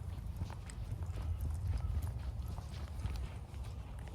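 Horses walking on a nature trail, hooves clip-clopping in a steady uneven rhythm throughout, fairly close with a low rumbling background, no voices.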